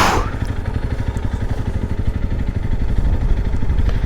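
A motorcycle engine chugs steadily in first gear at very low speed on a rough off-road track, a close, continuous low throbbing with faint clatter and no voices.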